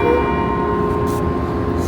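A ship's bell rings six bells with sustained, steady tones that hum on and fade slowly, heard alone over a low background rumble.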